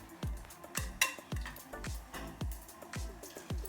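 Whole cumin, dried red chili and bay leaves tempering in hot oil for a Bengali fish and mixed vegetable curry, a regular series of about a dozen sharp taps and scrapes over a crackling fry.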